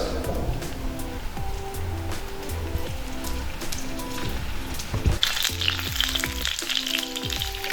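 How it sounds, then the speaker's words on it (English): Oil sizzles and crackles steadily as koftas shallow fry in a pan, with a brief clatter midway and a brighter spatter afterward. "So now we are shallow frying this koftas."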